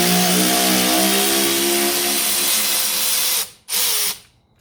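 Loud power drill running steadily on a 10mm shock absorber bolt of a 1985 Mercedes 300SD, close up, then briefly stopping, giving one short burst and winding down at the end.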